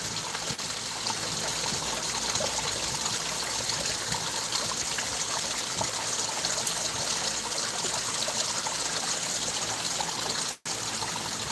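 Water pouring into a new garden pond, a steady close trickling and gushing flow with little splash, continuous throughout with one momentary dropout near the end.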